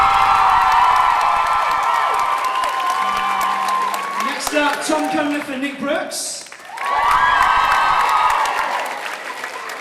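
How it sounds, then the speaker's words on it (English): Audience applause and cheering fill a school hall at a house music concert, loud at first, dipping while an announcer speaks over a microphone, then swelling back into sustained clapping and cheers. "could we leave all the applause till the end and applaud them all at the end?"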